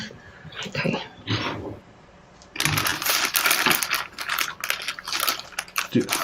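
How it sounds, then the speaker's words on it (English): Dice rattle and clatter as they are rolled and handled during a tabletop role-playing session, close and crisp, with a brief quiet pause before a longer run of clicking tumbles. "are those your dice I hear?"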